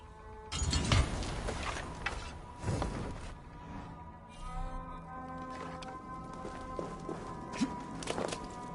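Heavy footsteps approach in a Viking-era Assassin's Creed Valhalla scene, a series of irregular thuds and crunches, some loud and close, over a sustained low droning ambience with no talking.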